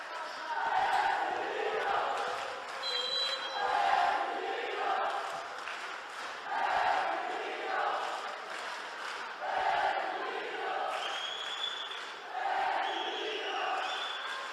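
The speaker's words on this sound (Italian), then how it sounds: "Sentite il tifo da parte dell'Esquilino" Esquilino Roma supporters cheer and chant at a youth basketball game, the Trofeo A. Segni against Pallacanestro Firenze, in a loud, sustained crowd roar with rhythmic chanting swells, occasional ball bounces and a commentator talking over it.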